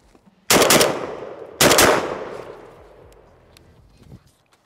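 Two loud blasts from a Beretta A300 Ultima Patrol semi-automatic shotgun firing reduced recoil buckshot, about a second apart, each booming close and then trailing off in a long echo, with no talk.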